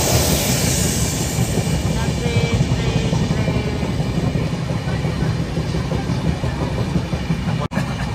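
A train rumbles steadily along the rails, a dense continuous roar with faint clattering throughout, heard close and loud.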